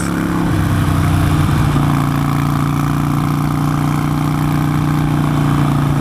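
Harley-Davidson Nightster motorcycle engine pulling steadily uphill, a loud, continuous low throaty drone with a slight shift in pitch early on, close to the rider and heard alone without talk.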